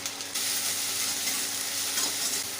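Garlic and then ginger dropped into hot mustard oil in a wok, giving a loud, steady sizzle and frying hiss that swells slightly near the end, with no voices.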